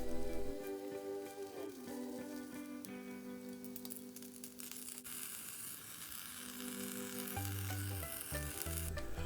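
Okonomiyaki batter topped with bacon slices sizzles steadily in a hot pan, a continuous crackling fry with scattered sharper pops, close and fairly loud throughout with no talking.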